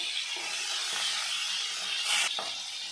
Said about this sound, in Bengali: মাছটা আমি একটু হালকা করে ভেজে নেবো